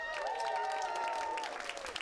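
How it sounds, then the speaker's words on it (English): A student crowd at a university comedy society stand-up show applauds a comedian, brief clapping with a rising tonal whoop or whistle over it, fading after about two seconds. "a big round of applause for the lovely Fred."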